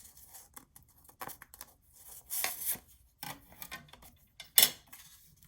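Scoring a 12x12 sheet of paper for a junk journal gives a handful of short, dry scraping strokes, quiet and close, separated by brief pauses.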